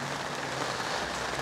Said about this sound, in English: It's been raining for a couple hours now.